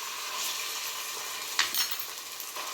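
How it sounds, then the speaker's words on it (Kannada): Ginger garlic paste fries in hot oil with onions for a chicken egg masala, giving a steady, moderately loud sizzle throughout with a brief clink of a utensil partway in and no talk. "ಎಣ್ಣೆಯಲ್ಲಿ ಚೆನ್ನಾಗಿ ಫ್ರೈ ಮಾಡ್ಕೊಂಬಿಡೋಣ"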